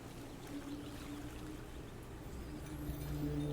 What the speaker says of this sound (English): Still, just the sound of the waves.